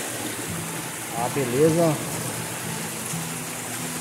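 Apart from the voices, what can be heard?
waterfall in a river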